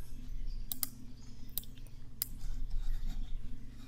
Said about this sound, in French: dans vidéo, nous allons double-cliquer ici pour ouvrir